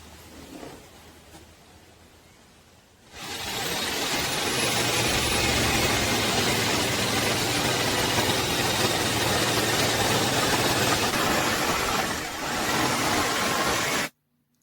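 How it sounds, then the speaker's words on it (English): A jigsaw cuts through material for a DIY fishing rod holder, a loud, steady buzzing whine that starts after a quieter stretch, runs continuously with a brief dip near the end, and stops abruptly. "Now we're going to have a little fun with the jigsaw."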